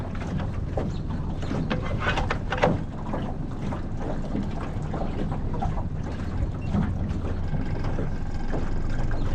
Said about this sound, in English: we're idling out of our cove now